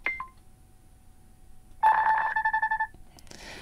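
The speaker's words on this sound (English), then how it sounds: "Now these are ringtones." Nothing Phone 2 ringtone: a brief electronic chirp, a pause, then a bright tonal melody with rapid pulsing beeps playing clearly and alone for about a second before fading.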